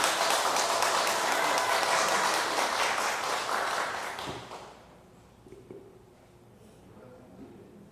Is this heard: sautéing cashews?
no